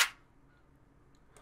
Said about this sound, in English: cold sounding clap sounds.